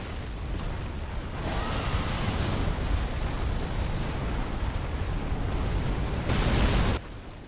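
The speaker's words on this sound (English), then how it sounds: "we need this giant ballista, or the giant crossbow, whatever you want to call it. We need to shoot the ground out so we can go down." A giant ballista shot in Dark Souls 3 blasts the ground open, a heavy rumbling explosion that roars continuously and builds to a louder burst before cutting off abruptly.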